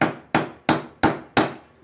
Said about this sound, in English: So now we'll hammer the pin